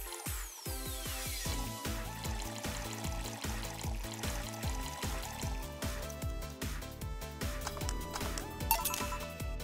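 A drink is mixed and poured in the bartending game VA-11 Hall-A, with a soft liquid pour and game clinks set against continuous electronic background music.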